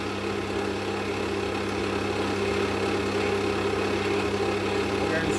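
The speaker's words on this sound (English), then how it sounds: "So we're just going to quickly go ahead and sand it." A wood lathe spins a turned pen during sanding, giving a steady, close motor hum that holds an even level throughout without pauses.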